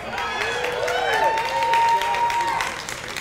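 Audience applause in a church sermon setting, a steady wash of clapping with cheering voices sliding in pitch through the middle, continuous and fairly loud throughout.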